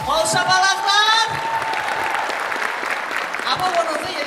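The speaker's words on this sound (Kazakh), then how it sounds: "Қол шапалақлар!" Audience applause at a stage show as a contestant is welcomed, steady crowd clapping that fills the hall, with a voice speaking over it near the start.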